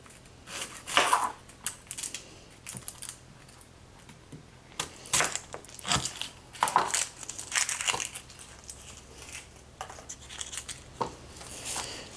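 A knife chops an onion into small pieces on a cutting board, a run of irregular close crunching and tapping cuts with brief pauses, alone without talk.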